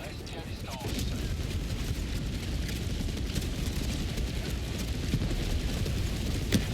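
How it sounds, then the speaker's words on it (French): A video game orbital strike explosion produces a dense, continuous roar of blasts and rumble that swells after a quieter start and stays loud throughout, with occasional sharper cracks. "J'explose tout. Littéralement tout explose."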